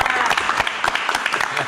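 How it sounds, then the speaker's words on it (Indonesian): An audience claps for a film trailer, a short burst of lively, fairly close applause with distinct individual claps over a busy crowd bed. "Tapi sekali lagi tepuk tangan trailer di sini"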